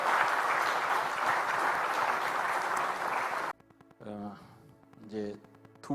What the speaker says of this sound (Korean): 우리가 뜨겁게 박수 한번 더 격려하시고